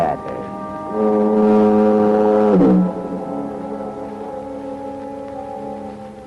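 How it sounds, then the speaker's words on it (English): A foghorn moans near San Quentin Prison, a loud, steady, low harmonic drone that holds for several seconds, briefly swells and shifts pitch, then continues sustained and monotonous with no talking. "the monotonous moan of the foghorn down at the point near San Quentin Prison"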